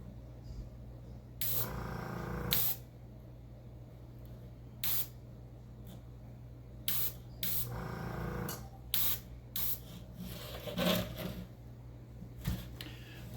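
Gunpla model parts are airbrushed with the Gundam Marker Airbrush System, giving short, close hissing sprays of varying length separated by quiet pauses over a low steady hum.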